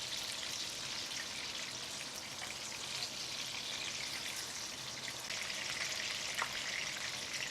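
Fish shallow frying in a pan for a Bengali curry, a steady crackling sizzle with scattered pops, close and continuous with no talk.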